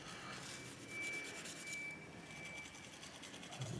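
A toothbrush scrubs thermal paste across the top of a CPU, a faint, steady rubbing and scratching that goes on for a few seconds with no talk.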